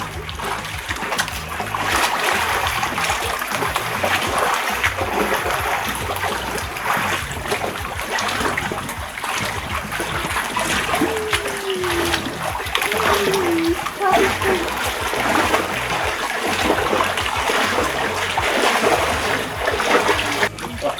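Water splashes down steadily onto people at a Tenerife water attraction, a continuous wash of spray and splatter running throughout, with children and adults talking and calling over it.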